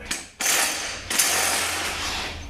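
A ratchet spins off the flange nut on a Ford 6R80 transmission in a repair shop, with loud, close, continuous rapid clicking that starts abruptly, pauses briefly, then resumes and runs steadily to the end.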